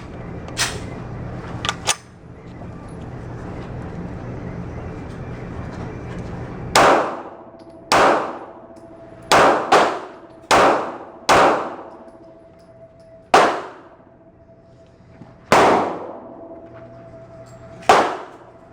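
An EAA Witness 9mm pistol fires at close range. The sharp, loud reports come one at a time at uneven gaps, each with a ringing tail, after a stretch of quiet room noise.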